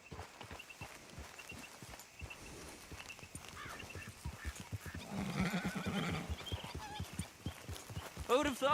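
Horse hooves in Red Dead Redemption II clip-clop in a steady walking rhythm, close and continuous, with an occasional whinny and game voices talking over them.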